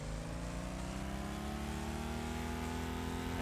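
Tempest MKV aircraft engine in Stormworks throttling up to about 60% for takeoff, a steady loud mechanical roar with rising tonal whine that holds continuously and close throughout.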